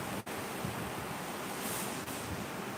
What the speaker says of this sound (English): Do you hear that wind right now?